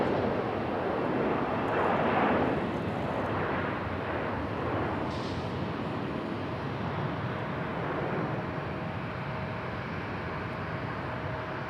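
An airliner arriving at Raleigh-Durham airport gives a steady, moderately loud engine roar that swells slightly early on and then eases as it passes at a middling distance.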